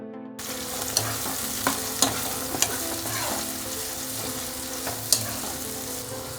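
Onions and green chillies frying in a hot pan, a loud steady sizzle punctuated by sharp spatula clicks and scrapes against the pan at irregular intervals.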